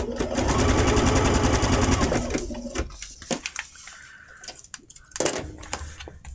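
A sewing machine stitching a seam on a kit, running steadily and loudly with a fast even whirr for nearly three seconds, then stopping, followed by soft handling clicks and rustles.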